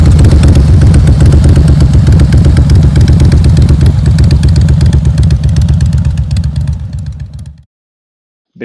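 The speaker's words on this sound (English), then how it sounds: "it is not just a motorcycle, it is a Harley" A Harley-Davidson motorcycle engine rumbles loud and close with a deep, lumpy low-end throb, fading slightly before cutting off abruptly near the end.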